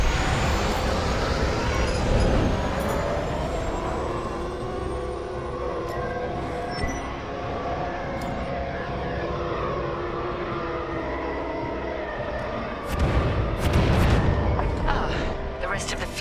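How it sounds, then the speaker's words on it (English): A starfighter in the Star Wars Squadrons video game throttles up and launches from its hangar. A steady, heavy engine roar rumbles throughout, then swells into louder bursts near the end. "Now, throttle up and deploy out of the hangar."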